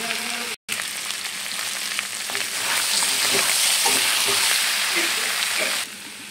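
Pieces of mutton sizzle loudly in a hot pan as they are sautéed and stirred, a continuous close frying hiss with scraping strokes of a spoon growing busier midway, no voices.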